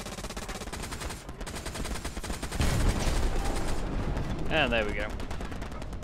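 Tank gunfire in the World War II shooter game Hell Let Loose, dense rapid bursts of shots over rumbling battle noise, with someone speaking briefly.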